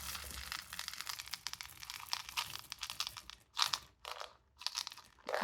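Chocolate chips being poured into muffin batter for double chocolate jumbo muffins, a close, quiet run of crunching, crinkling rustles that comes in uneven bursts with short pauses and no speech.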